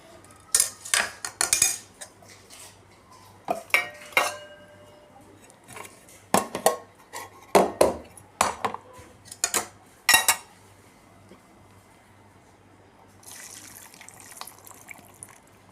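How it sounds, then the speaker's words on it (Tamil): Soaked soapnut, shikakai and neem leaf liquid is strained for homemade dishwash liquid, with close intermittent clinks of metal utensils and trickling, splashing liquid, ending in a softer steady pour. "இதே இப்போ நம்ம வடிகட்டிக்கலாங்க."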